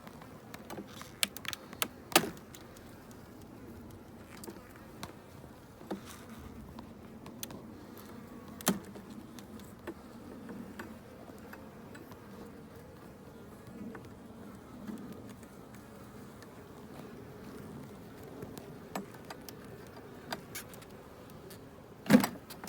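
Honey bees buzz softly and continuously around an opened hive, with faint scattered clicks and handling knocks nearby.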